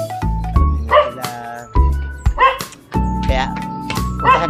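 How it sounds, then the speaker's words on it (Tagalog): Dogs at a hilltop spot near Luzaran Dam in Cebu City bark in repeated close, loud yips and bow-wows, several bursts over a few seconds. "Ito may mga aso pa"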